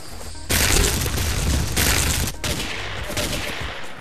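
Close, loud, dense gunfire in the block-building shooter Ace of Spades, a sustained rapid burst with one short gap, followed by more fire and a softer continuing rattle.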